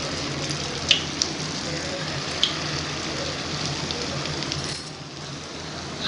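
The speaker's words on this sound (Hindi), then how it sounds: "ऑयल हमारा मीडियम फ्लेम पे गर्म हो चुका है। अब ये जो मैंने बनाए हैं, अब इसमें ऐड कर देंगे हम।" Potato and mozzarella cheese tikkis fry in oil heated over a medium flame, giving a steady close sizzle with a few sharp pops before it eases slightly.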